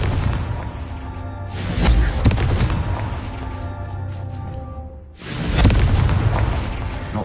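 Two heavy, booming blasts from the Confringo fire spell in Hogwarts Legacy, each a loud burst that rolls out into a long rumbling tail, the second arriving about three seconds after the first's tail fades.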